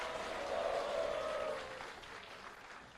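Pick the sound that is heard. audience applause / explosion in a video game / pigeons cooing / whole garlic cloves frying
audience applause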